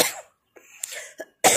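A woman coughs in a few sharp bursts separated by brief silences, close and clear, with throat-clearing sounds between the coughs.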